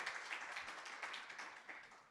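A church congregation applauds during a service, dense overlapping hand claps forming a faint, distant, continuous patter with no voices rising above it.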